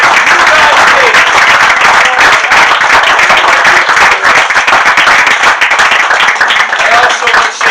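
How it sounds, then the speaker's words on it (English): A crowd gives loud, sustained applause for sandlot baseball old-timers, a close, dense rattle of many hands clapping steadily from start to finish, with scattered voices faintly mixed in. "Let's give them a nice round of applause."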